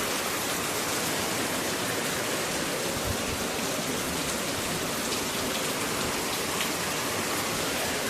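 Steady rain pours on a farm in Mandvi, a dense, even hiss of drops on surfaces holding constant and fairly loud for the whole stretch, with no voices.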